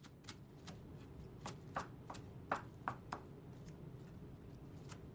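A knife quickly mincing fresh parsley on a cutting board, a run of crisp, irregular chops, some louder and closer together midway, over a quiet background with no speech.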